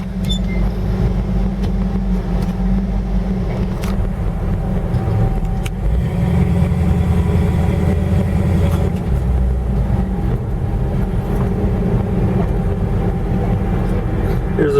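A 1962 salt flat rat rod car drives with a steady, loud engine rumble, a continuous low drone that shifts slightly in tone partway through, with occasional knocks and rattles over it.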